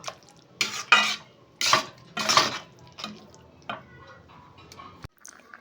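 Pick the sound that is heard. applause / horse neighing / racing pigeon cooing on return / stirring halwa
stirring halwa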